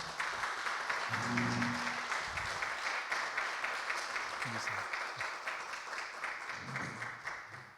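A church congregation applauds steadily for several seconds during a Sunday service, a dense wash of clapping with a few voices murmuring underneath.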